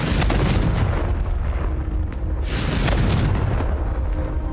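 Confringo fire spell explosion in Hogwarts Legacy, a loud continuous roaring blast with rumbling bursts and a sharp flare midway, dense and close.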